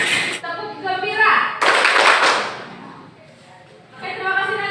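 Schoolchildren standing in a classroom perform a rhythmic group clapping chant, with bursts of clapping between stretches of chanting voices, a loud dense flurry in the middle, then chanting resuming.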